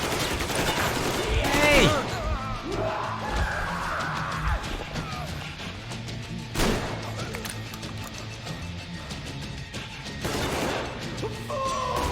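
Shotgun blasts in a video-game firefight, sharp loud bangs standing out at a few points over a dense, busy mix of other gunfire and crashes, with voices talking through it.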